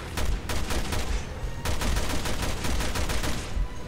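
Rapid gunfire in Resident Evil Revelations 2, a dense burst of repeated close shots in quick succession, loud and sustained, with sharper cracks standing out among the volley.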